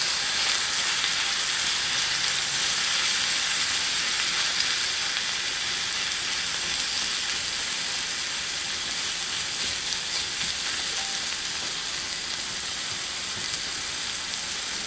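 Raw onions and celery sizzle steadily in a pan over low heat, a continuous close frying hiss with no break for the whole span and no talk.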